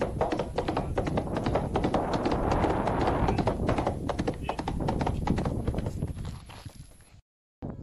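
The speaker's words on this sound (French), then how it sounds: "ce sera ma pépite animalière avec des chevaux" Horses clip-clopping on a road near Burgos, Spain, a brisk, dense patter of hoof taps close by over a steady background, fading out near the end.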